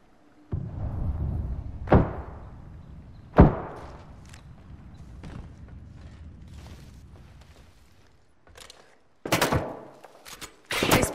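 Scattered gunshots in an Apex Legends squad match, a few sharp cracks spread over several seconds with a denser burst of shots toward the end, mixed with mechanical game clatter and rumble.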